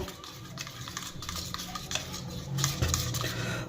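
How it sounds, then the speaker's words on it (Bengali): Gram flour batter for crispy spinach pakoras is mixed with hot oil in a bowl. Close, soft stirring and sloshing comes with light scraping and faint sizzle, and no voices are heard. "খুব ভালো করে তেলটা কিন্তু আমি বেসনের সাথে মিশিয়ে নেব"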